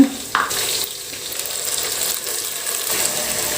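Ground masala sizzling with sautéed onions in a pan for chicken gravy, a steady close frying hiss with scraping stirs and an early clatter at the start.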